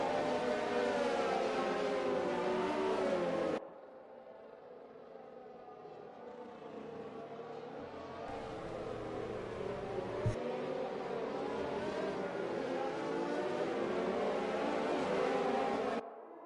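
Race car engines in an F1 video game restarting after a safety car, a steady whining drone that cuts down briefly then rises back to a loud continuous roar.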